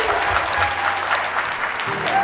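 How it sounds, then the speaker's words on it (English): Audience applause for a panel of CEOs and their moderator at a real estate brokerage's top producer event, dense steady clapping filling the room throughout with no pauses. "a round of applause for all of our panelists and our moderator today"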